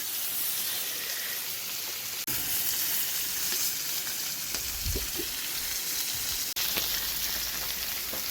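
Fish sizzles steadily in oil in a clay pot, a constant loud hiss with faint bubbling and a brief louder burst near the middle, with no voices.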